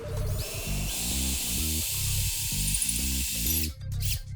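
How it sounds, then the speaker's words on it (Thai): SCDS 125 hammer drill boring into concrete, a loud steady high whine with a rapid rhythmic hammering pulse running throughout, stopping briefly near the end before starting again. "และเจาะปูน"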